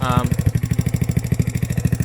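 A Twister Hammerhead go-kart engine, fitted with a high-flow fuel filter, idles close up with a fast, even, chugging pulse that stays loud and steady.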